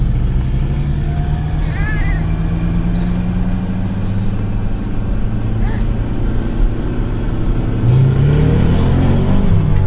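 Dodge Viper engine accelerating, a loud steady rumble that builds and rises in pitch near the end, with people talking over it.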